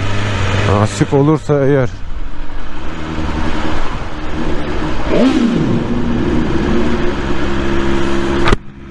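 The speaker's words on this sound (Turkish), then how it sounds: "Bu ses için bile alınır bu motor." A BMW S1000R motorcycle engine blips through a few sharp revs, then holds a loud, steady, throaty run close by, with someone speaking briefly over it.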